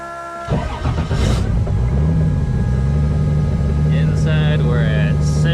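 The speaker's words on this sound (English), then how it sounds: "Let's start it up and see what the exhaust puts out." A Nissan 240SX with a 2JZ engine and ultra-quiet resonator exhaust cranks and catches, then settles into a loud, steady idle rumble that continues to the end, with brief bits of voices over it.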